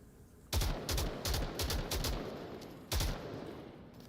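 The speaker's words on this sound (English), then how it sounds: "Indy, with all these gunshots going off all around them, knowing they are surrounded." Loud rifle fire cracks in the VR shooter Onward, about seven close, heavy shots in quick uneven succession, then a pause before one final blast.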